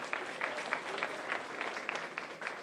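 An audience at a crowded opposition town hall meeting applauds for MP Saddam Hosein, a faint, distant patter of steady clapping across the hall.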